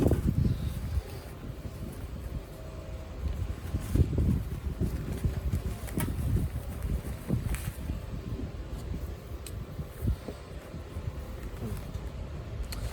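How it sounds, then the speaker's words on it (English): Blustery wind buffets the microphone with a constant low rumble and gusty bursts, plus faint rustling; no voices are heard. "Alright, it's a little bit windy."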